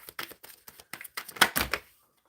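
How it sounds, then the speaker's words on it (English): Tarot cards being shuffled by hand, a quick series of crisp riffling flicks that builds to a louder burst of card slaps before stopping, close and alone. "Shuffling for Zen."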